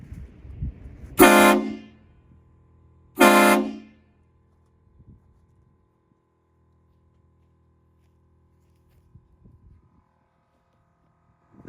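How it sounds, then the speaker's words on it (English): Two loud, blaring HornBlasters 244K train horn blasts from a 2016 Ram 2500 pickup, each about a second long, separated by a short pause, followed by near silence with faint background noise. "you could hear as soon as I blew off some of the horn"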